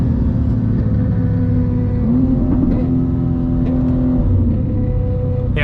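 A 1000cc superbike at top speed, heard in a loud, steady close engine roar with a brief shift in pitch partway through as a gear changes, inside a BMW G87 M2.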